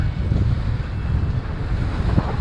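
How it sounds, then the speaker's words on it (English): Steady rushing wash of waves and wind against a sailboat beating on a close reach at sea, loud and continuous with heavy wind buffeting on the microphone and no voices. "Smashing through some waves and having a good old time."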